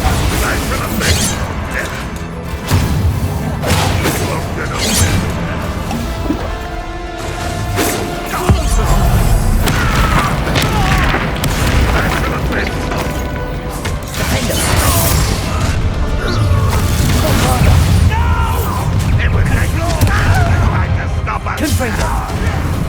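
Spell explosions in the video game Hogwarts Legacy come as loud booms and crashes amid a dense, continuous battle soundscape, with character voices speaking throughout.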